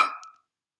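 A female maned wolf gives a single short, harsh bark that fades within half a second, heard alone and fairly clear.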